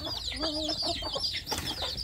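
A mother hen of free-range village chickens clucks softly and repeatedly while caring for newly hatched chicks, in close, continuous, gently rhythmic calls over a low background rumble.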